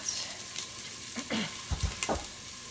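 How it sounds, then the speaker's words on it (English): Onion sautéing in an Instant Pot on the sauté setting, a soft sizzle with a few stirring scrapes and light clicks, close and moderately quiet. "So I'm going to go ahead and put in the onion, and I let that"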